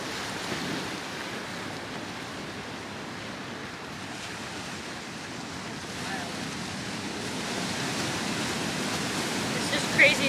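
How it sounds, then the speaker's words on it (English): Ocean waves break on rocks along the Malibu coast and surge in, a continuous wash of surf and rushing water with wind noise on the microphone, building slightly toward the end. "It kind of breaks up the waves, and then the water just kind of surges in there."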